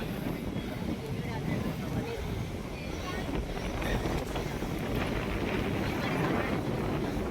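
Cool wind gusts steadily across the microphone during a hillside temple climb in Haridwar, a constant broadband rush with faint voices underneath.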